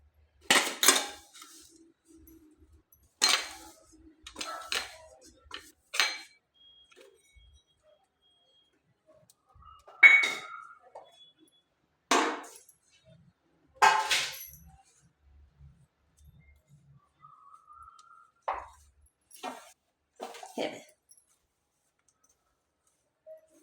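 Metal utensils clink and scrape in a dish as grated coconut, cashew and almond slivers, cardamom powder and sugar are stirred together, in sharp intermittent bursts separated by quiet pauses.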